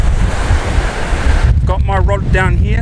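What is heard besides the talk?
waves breaking on a beach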